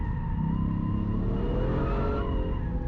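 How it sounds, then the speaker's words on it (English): A Toyota GR Yaris, four-wheel drive set to a 30/70 front-to-rear split, accelerating out of a corner on a race track, its engine droning loud and steady from inside the cabin and rising slightly in pitch. "if I give it the gas out of this corner, it just power understeers"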